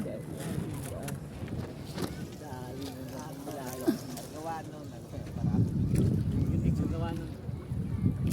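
Wind buffets a paraw sailboat on open water off Boracay, with gusty rushing noise and people talking and calling out over it.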